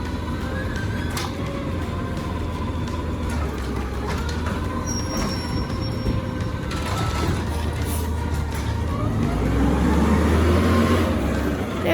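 A recycling garbage truck runs up close with a steady low engine rumble, some squeaks and mechanical whines, and the sound swells toward the end, with faint background voices.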